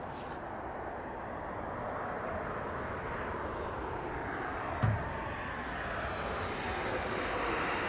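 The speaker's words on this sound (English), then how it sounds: "United Airlines coming in" A United Airlines plane on approach to land at Las Vegas Harry Reid International Airport, its steady engine roar filling the whole stretch at moderate distance, with one brief sharp bump near the middle.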